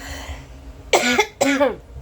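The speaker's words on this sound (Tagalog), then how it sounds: "medyo sinisipon at inuubo" Two sharp coughs in quick succession, close and fairly loud, after a moment of quiet background hum.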